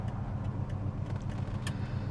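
Faint, steady clicking of the passenger-side turn signal in a 1970 Chevrolet Chevelle SS, sitting low under a constant engine rumble.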